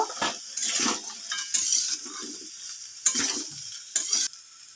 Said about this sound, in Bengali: পনিরগুলো দিয়ে ভালো করে নেড়ে নেব